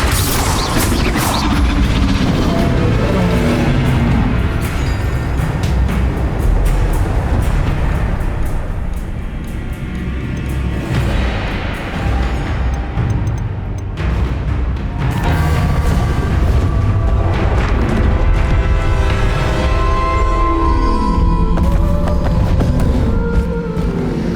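Blasting spell explosions from the game Hogwarts Legacy, a dense, loud wash of booms and crashing impacts mixed with swelling orchestral music, sustained throughout with no clear pauses.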